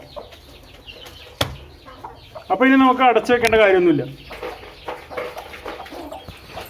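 A first-time broody hen sitting on eggs gives a loud burst of throaty clucking and calls in the middle. A person talks quietly before and after it.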